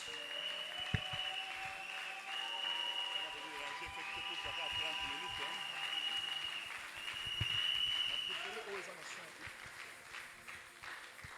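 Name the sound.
congregation acclaiming and applauding in church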